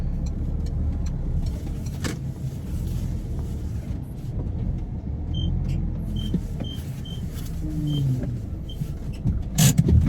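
A car is manoeuvred into a permit-holders street parking space, with a steady engine rumble, a brief electric-window whine and a few light beeps near the end.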